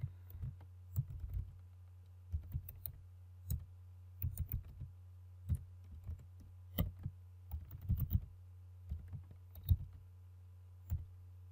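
Someone types on a computer keyboard in irregular bursts of crisp clicks and taps, with short pauses between flurries. The sound is close and fairly quiet, and there is no speech.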